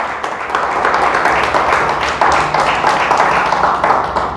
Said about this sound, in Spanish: Denle fuerte el aplauso porque es para Dios.